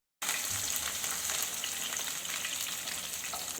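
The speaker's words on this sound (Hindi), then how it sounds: "साथ ही मैं इसमें हरा धनिया डालूंगी, ये भी फ्राई होगा" Curry leaves and fresh green coriander frying in hot oil, a steady, bright crackling sizzle that holds evenly throughout with no talking.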